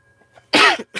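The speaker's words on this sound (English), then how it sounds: "Over here coughing." A single sharp cough bursts out close and loud, followed by a brief second cough, with near silence before it.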